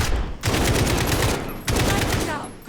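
Sustained automatic gunfire in the video game Call of Duty Modern Warfare, two long dense bursts separated by a brief pause, loud and close.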